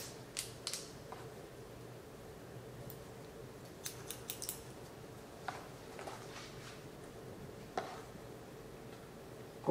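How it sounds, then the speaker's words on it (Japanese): Quiet, crisp snips of scissors cutting hair for a one-length basic cut, coming in small irregular clusters against a faint room hum, with no speech. "ハサミはできるだけこう下から入れましょう"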